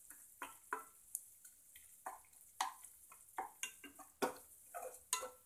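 Cooked tomato is mashed into masala in a pan with a utensil, producing soft, irregular taps and scrapes against the metal, close and quiet with gaps between strokes.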